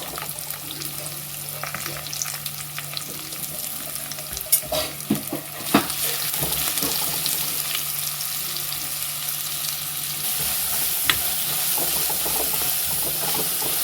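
Onions frying in a pan for chicken gravy, a continuous close sizzle and hiss with occasional stirring scrapes and clatters.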